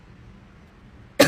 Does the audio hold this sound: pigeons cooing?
no